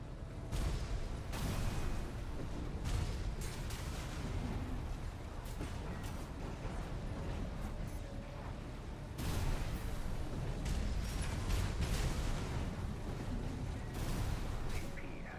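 Repeated explosions boom across a battlefield in Armored Core VI mecha combat, heavy blasts recurring every few seconds over a steady, loud roar of gunfire and machinery.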